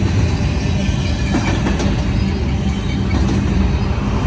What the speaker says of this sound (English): Train's going to San Bernardino.